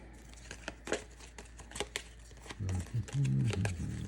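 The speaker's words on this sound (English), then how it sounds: "we're also going to shuffle up their advanced action cards" Game cards are shuffled and crinkled by hand during a solo tabletop board game session, a quick run of soft riffling and rustling bursts close by, with talk running alongside.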